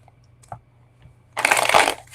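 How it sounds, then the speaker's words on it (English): A deck of reading cards is shuffled in one quick, close riffle lasting under a second, preceded by a few soft handling taps and clicks in a quiet room. "Get my card shuffled up here."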